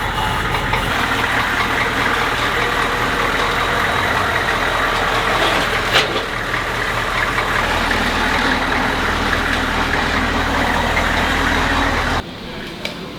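A Humvee engine idling as it warms up, a steady low rumble held near and constant for several seconds before cutting off abruptly near the end.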